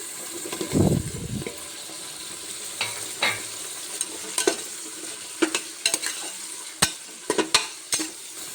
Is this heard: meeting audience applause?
no